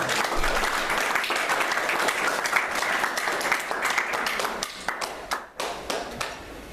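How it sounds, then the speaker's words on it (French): Church congregation applauding together, a dense steady wash of clapping that thins toward the end into scattered separate claps. "Acclamons pour le roi des rois."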